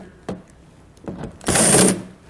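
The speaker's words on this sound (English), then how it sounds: "we'll do that using our 8mm socket" An 8mm socket removes undershield fasteners beneath a 2017 BMW X3: a couple of isolated clicks, then a short, louder burst of mechanical ratcheting close by, with no talking.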